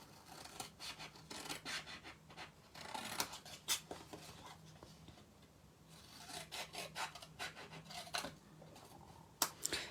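Worn scissors cutting cardboard for a handmade box, rasping and scraping snips in irregular bursts, close but fairly quiet, with no talking.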